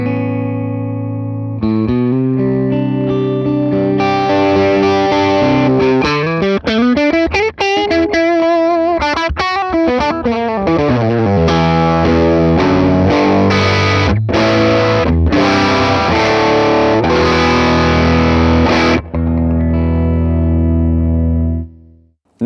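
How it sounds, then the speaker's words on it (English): Electric guitar chords played through a Morgan amp with a compressor, starting soft and sustained, then strummed harder with light drive, continuous and close for about twenty seconds before ringing out. "you'll hear that I can play quietly and the compressor will still sustain out the chords"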